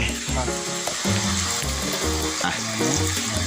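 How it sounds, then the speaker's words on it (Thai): Water comes to a boil in a pan while field rat is stir-roasted for a Thai dish, giving a steady close bubbling and sizzling hiss throughout, mixed with a tonal background sound. "นี่น้ำก็กำลังเดือดนะครับ"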